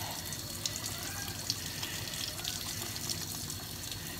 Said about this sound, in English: And of course you want to rinse it all out so there's nothing else in there.